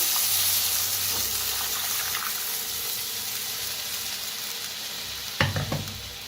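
Buttermilk hisses and sizzles as it is poured into a hot pan, a steady frying noise that fades slightly, with a brief clatter of a utensil near the end.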